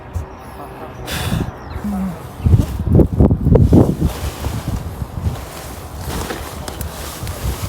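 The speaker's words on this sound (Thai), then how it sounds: "อากาศดีเนาะลมพัดสวยๆ" Wind sweeps across a grassy hillside meadow, buffeting the microphone in gusty rumbling bursts that swell and fade, with brief sounds of people moving nearby.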